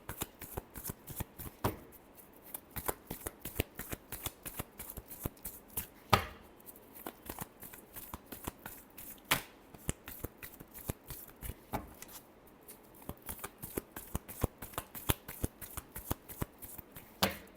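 Tarot cards being shuffled by hand during a Scorpio reading: a long run of quick, crisp riffling snaps and flutters at close range, steady with brief pauses, and no talking.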